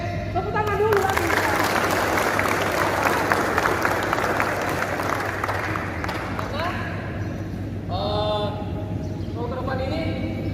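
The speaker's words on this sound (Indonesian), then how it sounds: "tepuk tangan dulu lagi" Clapping from a group during a teaching session at a university, a dense burst of hand claps that fades after several seconds into voices and talk.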